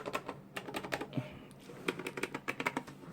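Crisp, rapid clicks from the buttons of an Emio Edge joystick, pressed in quick irregular bursts with short pauses between them, close and fairly quiet.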